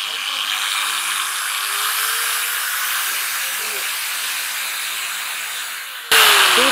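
A 5-inch angle grinder whirs steadily at its lowest speed setting, giving a loud, even motor hiss and whine that holds throughout and rises abruptly just before the end.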